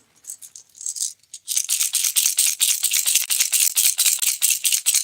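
A regular Strike King lipless crankbait lure rattles as it is shaken, a few loose bursts at first and then a fast, steady run of bright, sharp clicks close by with no talking.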